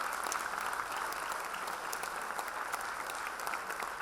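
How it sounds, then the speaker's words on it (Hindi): An audience at a stage performance claps in a dense, continuous burst of applause that stays loud and even throughout, with no one speaking. "एक बार और ताली बजनी चाहिए इनके लिए."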